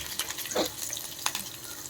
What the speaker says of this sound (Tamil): ஸோ கீ நல்லா ஹீட் ஆகிடுச்சு. ஸோ டேரெக்டாக ஆனியன், அப்புறம் பூண்டு.